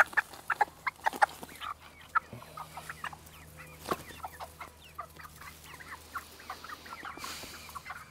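Young chickens cluck and peep in quick, scattered bursts inside a small shelter set up in a run, with a brief low hum partway through.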